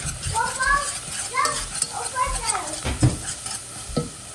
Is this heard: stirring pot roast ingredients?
yes